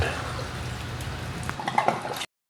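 Water draining out of an HVAC unit, a quiet trickle and splash with scattered drips and gurgles that grow a little louder before cutting off abruptly.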